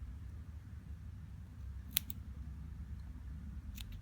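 Scissors snip through cotton wick during a Kayfun Lite Plus vape atomizer rebuild, giving one sharp close click and a second quieter snip later, over low background hum.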